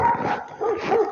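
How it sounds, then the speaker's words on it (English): Several dogs bark and yip at a distance outdoors on a frozen winter day, short overlapping calls rising and falling over about a second. "So I can hear other dogs down there."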